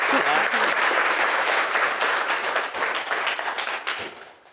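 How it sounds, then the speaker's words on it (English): Audience applause welcoming a speaker at a talk, a full, loud round of clapping with some crowd noise that tapers off and fades out at the close. "I'd like you to give her a warm welcome and a round of applause"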